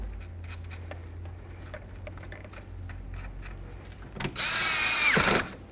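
Nuts on a side view mirror of a 2006-2010 Dodge Charger are snugged down with a power driver, small clicks and handling noises, then a loud close whir lasting about a second before stopping.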